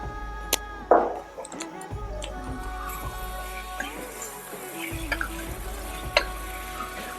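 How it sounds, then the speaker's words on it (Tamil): Marinated chicken is mixed into masala in a pan for donne biryani, with soft scraping and stirring clicks, faint sizzling, and a few sharp utensil taps scattered through the clip. "அந்த சிக்கனை இதில் சேர்த்துக்கலாம். சேர்த்து இதை ஒரு 15 நிமிஷம் நல்லா மிக்ஸ் பண்ணி விடலாம்."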